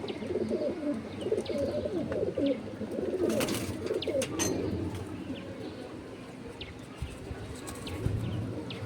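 Pulsar breed pigeons cooing close by in a home loft, soft repeated low coos with a few chirps and a brief wing flutter, no talking.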